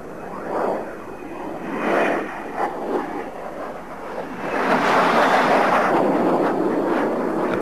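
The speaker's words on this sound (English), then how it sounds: "And a second solitary aircraft, and I think this is another hang on to your hats maneuver coming up." Display jet aircraft at a 1987 air show, roaring past in a broad, rushing drone that swells, dips and builds again louder toward the end, heard at a distance outdoors.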